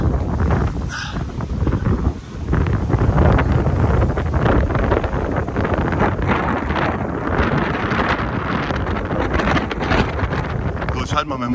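Strong wind on Gran Canaria buffets the microphone with loud, rumbling gusts throughout, and a person speaks German underneath the roar.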